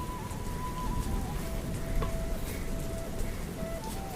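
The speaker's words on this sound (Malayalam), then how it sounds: "പഞ്ചസാരയും കൂടി ചേർത്തിട്ട് നന്നായി ഒന്ന് തിളക്കട്ടെ." Pineapple pachadi with sugar bubbling and simmering in a pan gives a steady, soft sizzling hiss, continuous and close throughout, with no talking.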